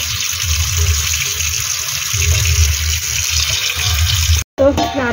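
Spinach rinsed again under running water at a tap makes a continuous splashing gush that stops abruptly near the end, after which a voice speaks briefly.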